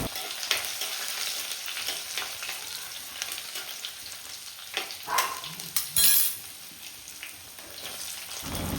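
Chopped shallots, green chili, garlic and ginger fry in a pan with a busy, crackling sizzle, broken by several louder stirring scrapes and clatters near the middle before it settles back to a steady fry.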